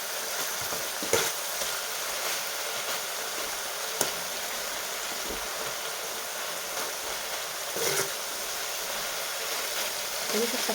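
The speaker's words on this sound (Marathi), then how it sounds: "आपल्याला असं चमच्याने दाबून घ्यायचं आहे" Spoon pressing cooked tomato into dal simmering in a pot, a soft continuous bubbling sizzle with a few faint clinks of the spoon against the pot, quiet and close.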